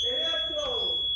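A house alarm sounds in an eight-bedroom home in Orlando, Florida, with a sustained high electronic tone that stays continuous while voices talk over it.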